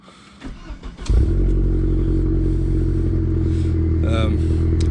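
A 2005 Audi A4 Quattro engine cranks briefly and catches, settling into a loud, steady idle rumble; a faint clatter sounds before it starts.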